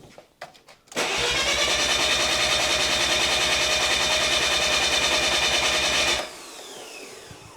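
Mazda RX-7 rotary engine cranking on the starter for a cold compression test, a loud, even rapid pulsing for about five seconds after a few clicks, then stopping.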